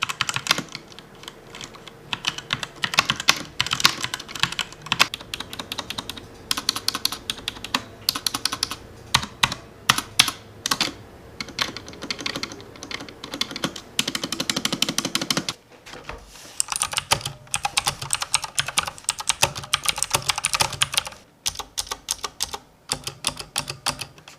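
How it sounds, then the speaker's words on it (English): Rapid, continuous clatter of typing on a mechanical keyboard fitted with red switches, close and steady with brief pauses near the end, no voices. "The reason I chose auto red switches because it is less noisy compared to the blue switches while typing."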